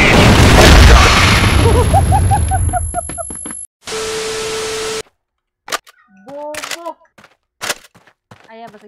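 Grenade explosion in the Crossfire video game, a loud broadband boom that opens the clip and rolls off over several seconds, followed by a burst of static, then shorter clicks and bursts with voices speaking in between.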